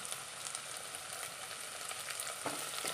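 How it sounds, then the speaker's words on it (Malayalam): Sliced onions and curry leaves fry in a pan with a fairly faint, steady crackling sizzle, with a couple of light clicks near the end and no talking. "നമുക്ക് സവാള ഇട്ട് കൊടുക്കാം. കറിവേപ്പില ഇട്ട് കൊടുക്കാം."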